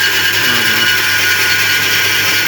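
A power saw runs loud and steady while cutting a birch burl in half, a continuous high buzzing whine with no voices over it.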